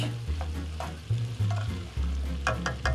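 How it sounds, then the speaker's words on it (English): Curry with garlic stirred and frying in a pan, a steady low sizzle with a few scraping stir strokes across the bottom, close and alone with no talk. "Now we can stir it. See, the aromas of the curry are coming out already"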